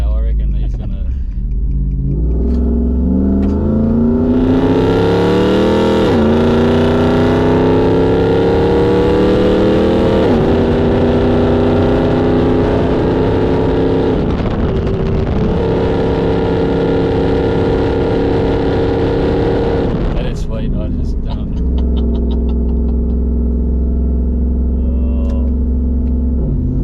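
Ford Mustang engine accelerating, a loud close rumble with climbing revs through several gear changes before dropping back to a lower idle-like drone, with voices talking over it.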